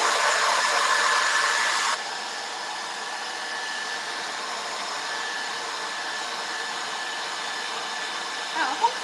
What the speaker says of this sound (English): now we're going to just use the hairdryer to dry it